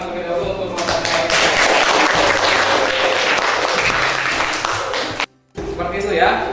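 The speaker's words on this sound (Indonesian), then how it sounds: "Kasih tepuk tangan terlebih dahulu untuk kelompok saya." A room of participants applauding a group, a dense burst of clapping lasting several seconds before cutting out briefly, then resuming more faintly, with a voice talking over it.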